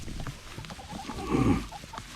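Farm chickens give soft, scattered clucks from a winter coop area, faint and slightly distant, with a brief swell of louder fowl calls near the end.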